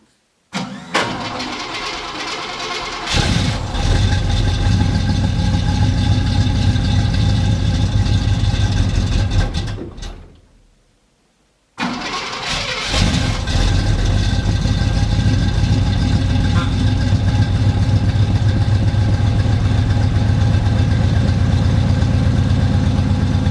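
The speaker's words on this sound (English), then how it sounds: "I gave it a bit of gas, so I took the choke off." A 1980 Chevrolet K20 square-body truck engine cranks and starts, runs loud and steady up close, cuts out briefly, then restarts and settles into a rough, continuous idle.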